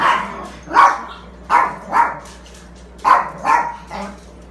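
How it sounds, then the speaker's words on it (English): Several dogs bark indoors in short bursts, about seven sharp barks grouped in pairs with brief pauses between, fairly close and loud over a low steady hum. "It's easier just to let them bark their bark and be done with it."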